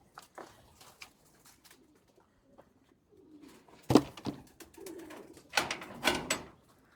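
Pigeons near a loft of racing flyers, young birds and old hens, cooing in soft low calls, with louder bursts and wing or movement noise in the second half; no talk.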